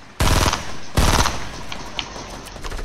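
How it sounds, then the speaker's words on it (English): Gunfire in the Fortnite battle royale video game: two loud, sharp bursts of shots in quick succession, followed by scattered fainter pops and game noise. "I just opened fire on a building"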